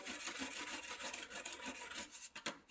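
A steel chisel is rubbed on a sharpening stone, alternating between the flat and the bevel, giving faint, close, rhythmic rasping strokes that grow choppier toward the end.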